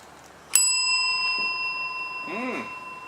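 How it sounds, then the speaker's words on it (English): A shop door bell rings once with a bright metallic strike as someone walks in, its tones ringing on and fading slowly over a low room murmur, with a brief voice-like sound near the end. "you walk into the building shop, the bell rings as we've just heard"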